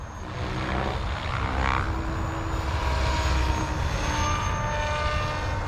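A remote-control RAW 580 helicopter flies with a steady, dense whirring drone of rotor and motor that holds constant and fairly loud throughout, with no voices.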